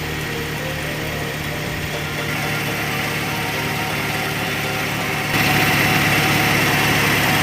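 Hyundai Atoz car engine idling steadily while the radiator is being filled, a close continuous hum that becomes slightly louder near the end, with no talking.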